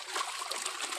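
Faint, steady trickle of water splashing softly while sweet potatoes are rinsed in clean water, close and alone.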